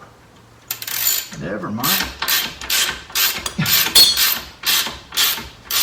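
A ratchet loosens a bolt on the lower control arm of a 2013 Toyota Avalon during rack and pinion replacement, making close rhythmic bursts of clicking about once every half second, and someone speaks briefly.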